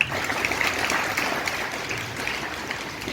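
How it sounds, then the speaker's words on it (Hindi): Applause from a crowd at a Hindi-language spiritual gathering, steady dense clapping filling the whole stretch, fairly loud and close, with no speech over it. "आप सबकी तालियां"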